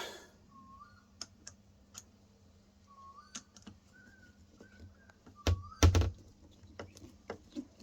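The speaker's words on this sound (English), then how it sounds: "Gonna screw that in." A screw being driven by hand through a plastic hinge on an LG fridge gives scattered light clicks and ticks, with a louder cluster of knocks near the end, quiet and close against a soft background hum.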